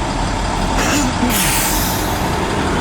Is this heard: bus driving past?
yes